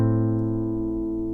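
Acoustic guitar notes from a song, the 5th string plucked by the thumb and a higher string by the index finger, sustaining evenly up close and slowly fading, with no talk.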